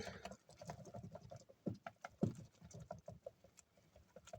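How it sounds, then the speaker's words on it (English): A whisk taps rapidly against a bowl of cappuccino chocolate mousse made with coconut cream, giving a quiet, uneven patter with a few sharper clicks. "Maybe I should whisk it. Okay, so I'm going to whisk it."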